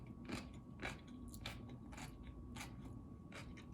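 Someone bites into a spicy, crunchy dish during a Russian food mukbang, with about six sharp, close crunches spaced roughly half a second apart over quiet, soft chewing and no speech.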